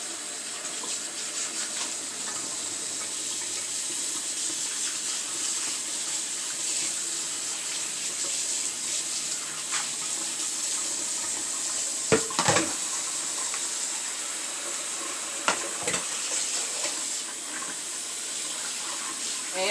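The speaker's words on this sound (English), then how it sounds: "Over here getting my dishes washed up." Tap water runs steadily into a kitchen sink while dishes are washed, a continuous hissing flow heard close up throughout, with a few brief clatters of dishware near the middle.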